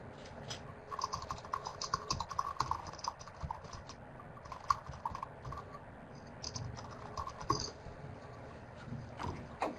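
Soft, irregular keyboard typing clicks from people at computers during a webinar Q&A, quiet and scattered over a low room hum, with no one speaking.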